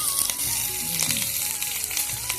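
Pumpkin curry with green chilies, tomato, turmeric and salt frying in oil, a dense continuous sizzle close by, loud and steady with faint stirring underneath and no talking.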